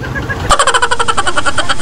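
A car engine in Baguio traffic turns over and catches about halfway through, settling into a quick, rhythmic chugging idle close by.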